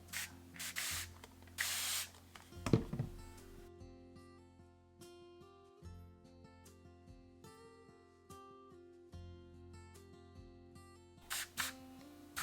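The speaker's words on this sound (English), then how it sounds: "I sprayed a little bit more water on the edge here" A spray bottle hisses in a few short bursts, then quieter rubbing and tapping follows, with faint background music throughout.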